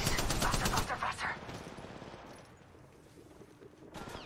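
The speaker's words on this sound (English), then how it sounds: "Taking fire. Opening fire." Rapid bursts of gunfire in the Apex Legends Mobile battle royale game, loud and dense for the first second and a half, then fading to a softer crackle of distant shots, with game voice lines mixed in.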